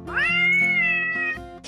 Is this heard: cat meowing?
yes